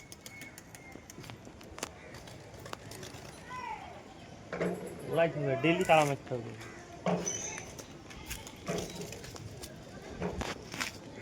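Pigeons coo low and steadily among a large flock of top-quality birds, with someone talking over them throughout.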